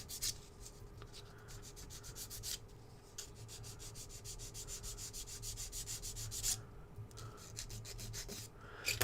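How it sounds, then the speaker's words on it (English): Hand file rasping knobs off a plastic part from a Tamiya tank model kit, a steady run of quick scraping strokes close up, nearly continuous with a few short pauses, with no talking. "Just file these knobs off."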